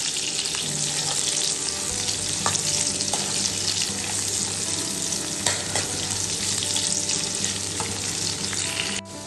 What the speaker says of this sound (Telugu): ఇవి లైట్గా ఫ్రై అయిన తర్వాత ఫిష్ వేసుకోవాలి